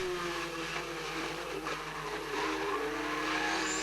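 Production race cars at a 1988 championship round launch from the start together, engines rising into a loud roaring chorus that builds and climbs in pitch as they pull away.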